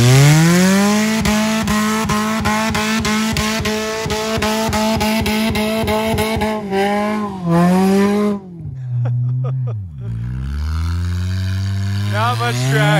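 A front-wheel-drive car accelerates hard on loose gravel, its engine revving loudly and rising in pitch through the gears while the tires spin for grip, then dropping and climbing again near the end, with people talking over it.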